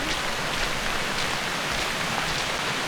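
Steady rain falls on a mountain trail near a rest post, a dense, even hiss of drops filling the whole stretch without any voices.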